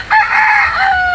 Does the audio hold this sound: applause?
no